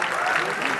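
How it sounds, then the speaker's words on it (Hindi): An audience at a theatre festival award ceremony applauds, a brief patter of clapping heard at moderate level and blended with crowd noise. "ताली हमें चाहिए, बिकॉज"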